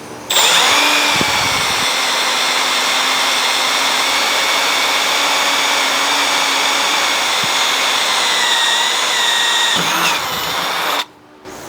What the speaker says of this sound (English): So I got everything drilled and tapped on this side and got the rails mounted.